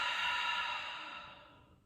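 A single long breath exhaled out through the mouth, a soft close airy whoosh that slowly fades over about two seconds, alone without talk.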